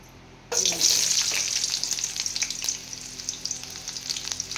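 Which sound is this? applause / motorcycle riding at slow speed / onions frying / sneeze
onions frying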